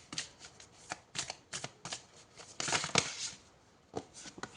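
Tarot cards are shuffled and drawn in a series of crisp, close riffling bursts and soft slaps, with a louder flurry in the middle, quiet between strokes.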